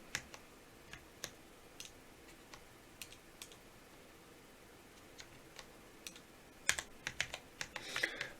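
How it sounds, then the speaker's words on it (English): Keys clack on a Cooler Master SK630 keyboard, sparse single taps at first, then a quicker cluster of clicks near the end, close and crisp over a quiet background hiss. "Typing is not great"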